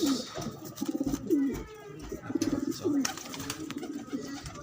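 Tipler pigeons coo nearby in a short series of soft, repeated rolling calls, with faint background noise and a little quiet talk between the calls.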